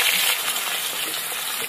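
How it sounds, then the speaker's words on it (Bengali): Eggplant fries in hot oil with a steady, close crackling sizzle, dense and even throughout with small pops scattered through the hiss. "এবার আমি বেগুনগুলো ভেজে নেবো"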